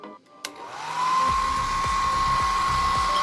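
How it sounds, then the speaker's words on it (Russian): A click, then a hair dryer whirs up and blows steadily with a high whine and airy rush, drying a liquid-spilled keyboard, close by, no voices. "берем фен"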